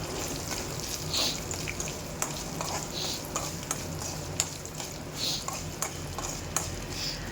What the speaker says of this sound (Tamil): நான் தேங்காவையும் இந்த எண்ணெயில் நல்லா பொரிச்சிக்கணும்